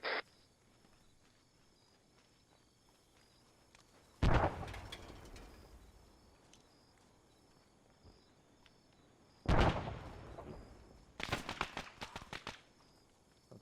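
A frag grenade detonates in Arma 3 with a sudden sharp blast. It breaks an otherwise quiet stretch, followed later by another loud burst and a cluster of rapid cracking reports near the end.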